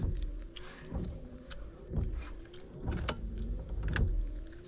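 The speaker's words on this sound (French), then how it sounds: "T'as vu à quel point ils sont fatigués les essuie-glaces? Ça c'est à vitesse max, hein." Worn windscreen wipers on a VW Golf sweep at maximum speed, giving a repeated rubbing judder about once a second over a steady low car hum, close and fairly loud with no talk.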